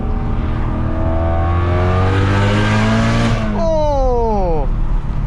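A BMW M3 with its exhaust valves open accelerates hard through a tunnel, the loud engine note climbing through the gears, then a quick upshift and a fresh rising pull, with voices heard over the roar.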